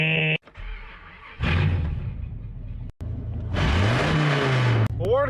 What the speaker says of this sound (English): I did what any responsible human being would do, and I straight piped it